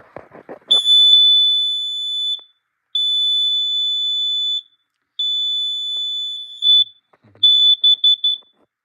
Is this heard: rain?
no